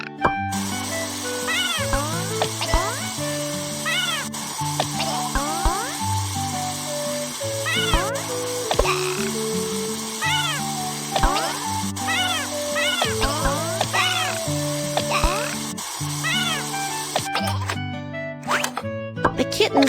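A cartoon stray kitten in a BabyBus kids' game meows repeatedly in short, bright cries over cheerful looping background music.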